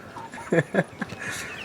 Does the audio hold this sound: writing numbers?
no